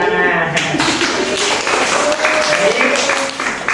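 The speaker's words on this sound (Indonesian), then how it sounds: "Tepuk tangan." Applause from an audience at a religious lesson on types of najis, a broad wash of clapping running steadily under a voice that talks over it throughout.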